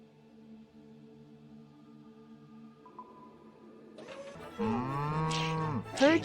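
Cows moo in a sheepherding video game, with long, low moos layered over a soft drone that swell into louder, overlapping calls near the end.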